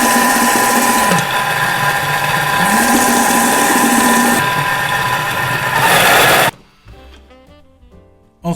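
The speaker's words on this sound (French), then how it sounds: "on va mixer ça jusqu'à ce que ça fasse une pâte blanche et lisse" An electric mixer whirs steadily through eggs, sugar, salt and nutmeg for an eggnog batter, loud and continuous with slight pitch dips, then cuts off abruptly, leaving quiet clatter.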